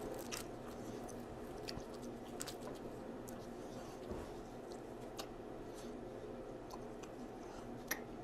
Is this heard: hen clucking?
no